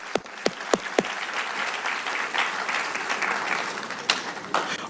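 Audience applause for graduating seniors at a high school sports awards ceremony: a few sharp individual claps open, then a steady wash of crowd clapping continues at moderate level.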